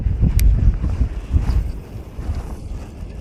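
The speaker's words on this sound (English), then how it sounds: "It's so windy." Strong wind buffeting the microphone on a lakeshore while trout fishing, a steady low rumbling roar with gusty surges throughout, no talk.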